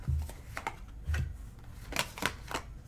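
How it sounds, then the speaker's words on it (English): Tarot cards are cut from the deck, soft papery slides and taps in a few scattered bursts, quiet and close, with low thumps from handling. "We're going to cut 3 cards."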